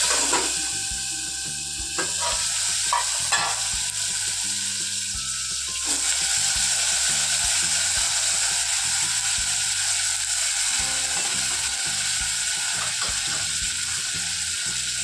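Washed desi brinjals hiss loudly as they are tempered in hot oil with asafoetida. The sizzle runs continuously, and a spatula scrapes and clatters against the pan as the vegetables are stirred.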